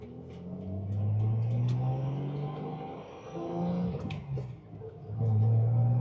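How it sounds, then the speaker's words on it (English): A 1973 Datsun 240Z with a straight-piped inline-6 exhaust, 4-speed manual: a smooth, throaty drone that rises and falls through several revs and gear changes, steady and close, with no crackle. "Just some free flowing, good breathing exhaust"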